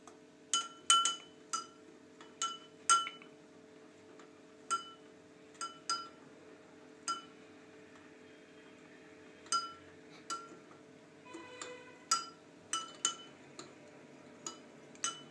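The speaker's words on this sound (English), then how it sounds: "We'll stir it till the salt fully dissolves." A metal spoon clinks repeatedly against a glass of water while salt is stirred in, a string of sharp, irregular taps over a quiet background.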